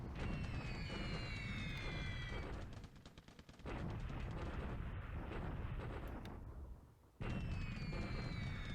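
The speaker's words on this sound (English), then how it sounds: "Man, Flak is still alive and well at Clark Field." Anti-aircraft flak over Clark Field in War in the Pacific: AE, a continuous rumbling barrage of booming bursts, loud and sustained with brief dips, alongside high whistling tones at the start and end.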